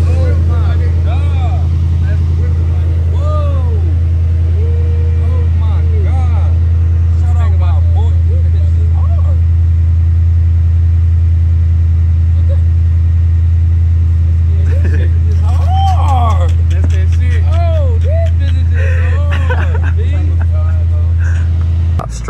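A loud car engine drones with a deep, steady rumble inside the cabin while driving slowly through a residential area, with people talking over it throughout.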